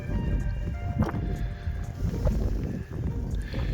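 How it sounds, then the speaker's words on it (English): Strong gusting wind on the Scottish mountain Maol Chean-dearg in Torridon roars and buffets the microphone in a continuous low rumble with shifting gusts. "this wind is quite challenging"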